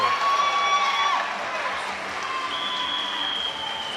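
A stadium crowd at a Drake shot put event applauds and cheers a big throw, a steady wash of clapping and shouting at a distance with a whistle-like tone carried over it throughout.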